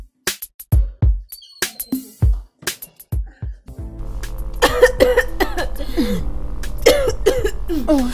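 A person coughs repeatedly in sharp, separate bursts, then voices and music swell in underneath as the coughing continues more faintly.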